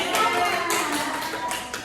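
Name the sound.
applause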